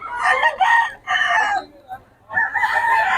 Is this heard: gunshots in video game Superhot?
no